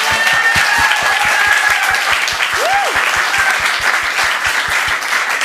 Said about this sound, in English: let's give one more round of applause for all of these folks